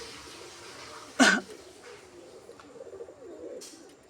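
Domestic pigeons kept at home coo faintly in a low, steady murmur, broken by one sharp, loud rustling burst near the start of the second half.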